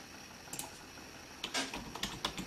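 Keys tap on a keyboard plugged into a mini PC, a few soft scattered clicks followed by a quicker, firmer cluster of keystrokes, faint and close in a quiet room.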